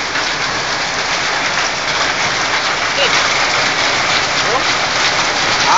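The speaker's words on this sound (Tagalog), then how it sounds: "Mga yelo po sa Saudi nahuhulog." Hailstones fall during a hailstorm in Jubail, Saudi Arabia, a loud dense steady hiss and patter of ice striking surfaces, continuous and close.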